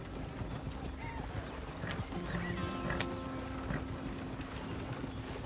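Horses' hooves clip-clopping in a PS4 video game, a steady rhythmic trot with creaking wagon mechanisms and an occasional whinny, moderately faint against a constant background wash.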